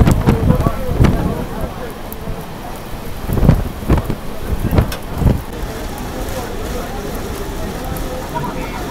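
Heavy monsoon rain pours in a dense, loud, continuous roar, heard from inside the Darjeeling Mail train on the Kolkata to Darjeeling journey, with some talk and bumps mixed in.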